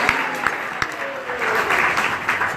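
Audience applause at a guru-puja gathering, a steady wash of clapping with a few sharper individual claps standing out, continuing at moderate loudness throughout.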